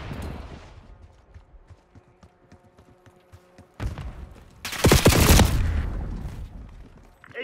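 Gunfire in a Call of Duty match: scattered shots and mechanical clatter at first, then a loud, dense fusillade of rapid automatic fire with booming blasts that swells and fades away.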